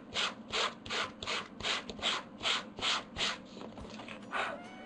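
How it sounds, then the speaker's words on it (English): Sandpaper rubs across textured, embossed coordination paper card in a steady run of about a dozen even back-and-forth strokes, close up and fairly quiet. "want you to see how it looks when you start sanding"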